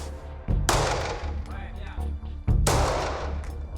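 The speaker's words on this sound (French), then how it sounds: "tous les premiers tirs, là, ça sert aussi à évacuer ce stress par rapport à l'arme" Handgun shots from police trainees at their first firing practice on a range, two loud sharp reports spaced about two seconds apart with echoing tails and fainter background shots.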